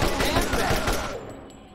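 Automatic gunfire in the video game Borderlands comes as a loud rapid burst of shots for about a second, then cuts out into a fading tail.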